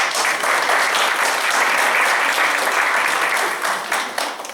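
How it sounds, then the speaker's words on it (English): Town hall meeting audience in Baltimore applauding a community speaker, loud sustained clapping from a full room, close and steady before tapering slightly at the end, with no talking. "Let's give her a round of applause."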